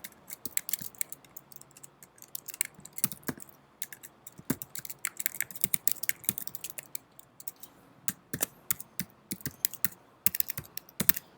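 Typing on a computer keyboard to log in to a property management system, with irregular bursts of crisp clicking keystrokes close by and fairly loud, and no talking.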